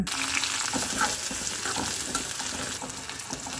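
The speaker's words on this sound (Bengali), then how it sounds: "কড়ার মধ্যে তেল দিয়ে তেজপাতা, এলাচ, দারচিনি, শুকনো মরিচ, পেঁয়াজ কিছুক্ষণ ভেজে নিলাম।" Bay leaf, cardamom, cinnamon, dried chili and onion frying in oil in a pan, giving a steady close sizzle with scattered crackles and the occasional stir, no voices.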